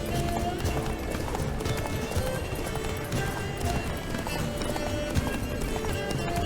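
Roach, Geralt's horse in The Witcher 3, gallops with steady, rapid hoofbeats, close and continuous within a dense bed of game sound.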